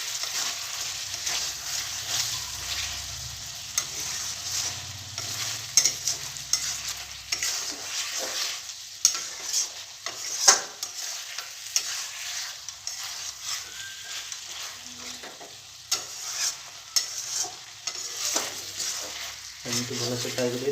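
Dahi chicken masala gravy sizzles and fries steadily in a pan, with a spoon scraping and stirring through it in repeated strokes, close and continuous.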